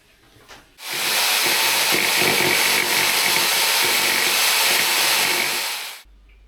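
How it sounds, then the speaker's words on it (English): A power tool cuts steadily through an outdoor kitchen countertop to widen a gas pipe hole, a loud, continuous grinding whine running about five seconds before stopping abruptly. "We decided to cut the gas pipe hole a little bit more because it was small."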